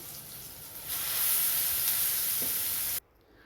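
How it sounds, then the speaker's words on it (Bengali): Chopped onion and garlic frying in hot oil, a steady bright sizzle that swells after the first second and holds loud and close before cutting off abruptly near the end. "আমি তেলের সাথে এখন কষিয়ে নেবো যাতে কাঁচা গন্ধটা চলে যায়"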